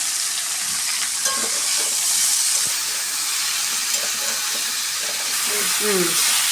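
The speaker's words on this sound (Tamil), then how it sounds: "கோவக்காய் கொஞ்சம் நேரம் வதங்கணும்." Ivy gourd (kovakkai) sautéing in a pan gives a loud, steady sizzle and fry hiss with scattered stirring scrapes and clinks throughout, close to the pan with no talk.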